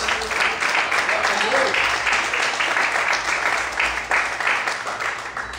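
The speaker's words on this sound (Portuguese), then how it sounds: "Mais forte as palmas." Loud, sustained applause from a church congregation during worship, many hands clapping densely without a break and easing slightly toward the end.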